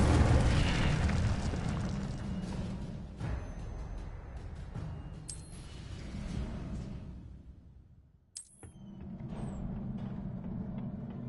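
Incendio fire spell cast in Hogwarts Legacy, a loud rushing burst of flame with booming whooshes, a short dip to near quiet, then a second fiery roar that carries on to the end.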